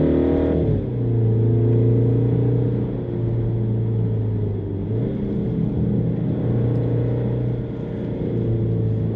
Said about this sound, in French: Il chante quand même plutôt pas mal le 4 cylindres.